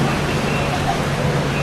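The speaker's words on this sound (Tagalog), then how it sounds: "bumuhos na po yung malakas na ulan dito sa DOJ." Heavy rain pouring down outdoors at the Department of Justice, a dense, steady roar of downpour filling the whole moment without a break.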